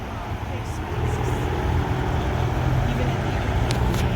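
Street traffic rumbles along Beverly Drive in Beverly Hills, a continuous close roar of passing cars and heavier vehicles that swells slightly after the first second.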